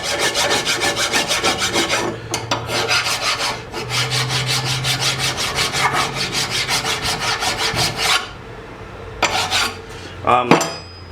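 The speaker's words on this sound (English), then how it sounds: "I love to file everything. Get all that old rust off. Create a better mating surface for the new parts." A hand file scrapes rust off the hub mating surface of a 2006-2012 Ford Fusion during a brake rotor job, rapid close rasping strokes in long bursts with short pauses and a metallic clink near the end.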